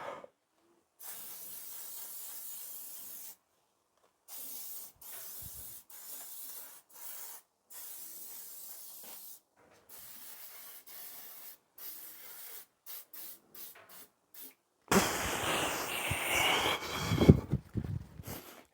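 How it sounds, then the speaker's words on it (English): XCP Rust Blocker sprayed from an aerosol can onto a ZX6R motorcycle in a garage, heard as repeated close hissing bursts broken by short pauses, ending in a longer, louder spray with rubbing. "I'm just going to put some spray down or back this way."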